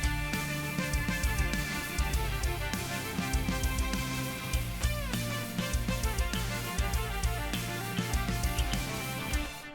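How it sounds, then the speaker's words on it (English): A bright, high piccolo line runs over a full band accompaniment, with steady rhythmic beats underneath throughout. "I had the piccolo join in on the solo."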